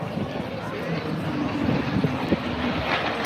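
A restored 1944 North American P-51 Mustang warbird flying at an air display, its engine a steady, broad droning roar that stays even and fairly distant, with faint talk over it.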